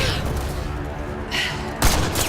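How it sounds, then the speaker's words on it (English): Sniper gunfire in the video game Mass Effect Andromeda, with a couple of sharp, loud shots and a heavy blast amid a rumbling combat backdrop. "Sniper, his sights are set on Sloane."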